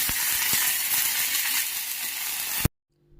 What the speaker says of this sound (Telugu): ఎండుమిరపకాయలు ఒక నాలుగు పచ్చి కరివేపాకు కొద్దిగా వేసి ఇలా ఫ్రై చేసుకోవాలి